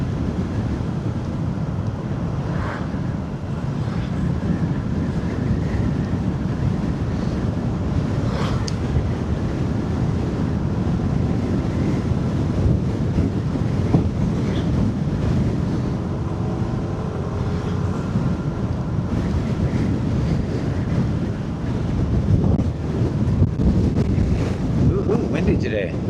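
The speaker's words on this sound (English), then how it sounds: "on a scooter, the wind really hits you when it's strong" Strong wind buffets the microphone on a moving SYM 150 Fighter scooter in a steady, heavy rumble with gusty surges, a constant roar of riding at speed in open air.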